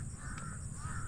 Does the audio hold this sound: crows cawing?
yes